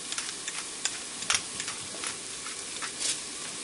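Onions, garlic and spices sauté in a pressure cooker, a quiet close sizzle broken by soft stirring taps and scrapes, with no talking.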